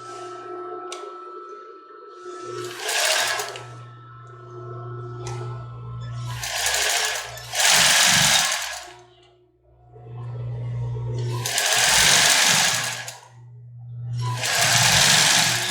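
A sewing machine stitches a padded foam-cup bra in several separate bursts of a few seconds each, with quiet pauses between them. The machine is close and loud, with no voices.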